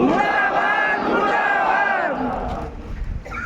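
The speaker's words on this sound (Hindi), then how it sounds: "मुर्दाबाद के नारे लगाए" A protest crowd at a toll plaza chants slogans in unison against Rakshak Security Company, loud and close. Many raised voices rise and fall together in a rough, shouted rhythm.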